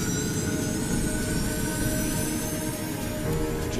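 Airliner jet engines spooling at full thrust, a dense, steady roar and whine that stays loud and even throughout, with no voices.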